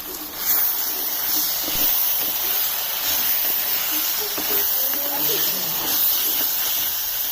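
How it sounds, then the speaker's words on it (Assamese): Tomatoes and dried chillies fry in a hot pan with a steady, loud broadband sizzle and hiss that runs unbroken throughout, with faint clinks and stirring beneath it. "টমেটোখিনি এনেদৰে আপোনালোকে ফ্ৰাই কৰি ল'ব আৰু ইয়াতে আপোনাৰ শুকান জলকীয়া"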